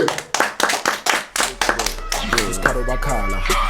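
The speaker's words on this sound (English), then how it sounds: "Round of applause, everybody." A crowd claps in a quick burst of applause with sharp, close hand claps over the first second and a half, then music with singing rises and continues under the fading clapping.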